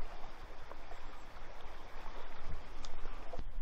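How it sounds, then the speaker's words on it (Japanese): A river flows steadily through freezing winter cold in rural Etanbetsu, Hokkaido, giving a soft, continuous rushing wash heard close by with no voices, while a few faint clicks rise above it. "意外とちゃんと川流れてるな。"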